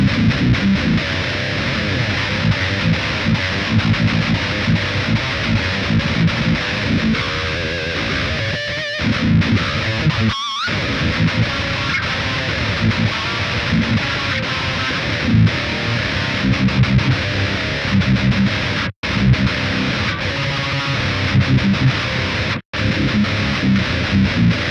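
Distorted electric guitar played through the Big Bastard v2.3 amp sim plugin, a gnarly high-gain tone with an effects gate, loud and continuous with a few brief gaps between phrases.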